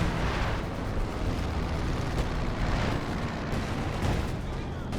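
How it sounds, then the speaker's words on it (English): Artillery barrages and mortar explosions from a 4v4 match of the strategy game Company of Heroes 2, a dense, continuous rumble of blasts and booms with a few sharper impacts, playing loud and steady throughout. "Artillery, though, is lighting up where? Oh, the mortar pit."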